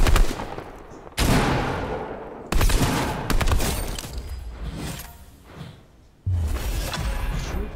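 Loud video game gunfire from Fortnite rattles in repeated bursts, several sharp volleys with brief gaps between them, close and dominant without talk.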